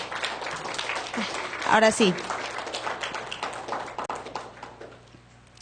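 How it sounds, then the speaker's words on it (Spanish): A church congregation claps for a young man, a burst of applause swelling and then thinning out beneath a voice speaking over it. "Denle un aplauso, por favor, a Josué."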